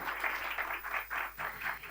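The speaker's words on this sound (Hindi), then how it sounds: "तो इनके लिए तो बहुत ज़ोर से तालियां होनी चाहिए" An audience claps at a Women's Day stage event, a dense burst of applause swelling and dipping in waves for a couple of seconds.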